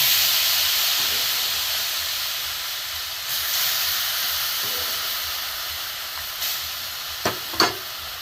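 Boiled liquid milk goes into a hot frying pan of carrots for kheer, producing a loud, steady steaming hiss that slowly fades, with a few light clinks near the end.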